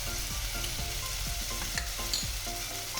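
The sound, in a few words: sautéing turmeric and salt in a pan for papaya kofta curry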